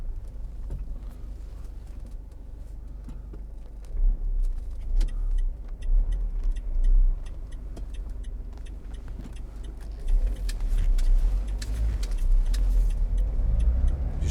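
A Vauxhall Vivaro 2.0 CDTi Sportive van sets off, its diesel engine rumbling low from inside the cab under scattered clicks and small rattles, with the engine rising in a few short surges.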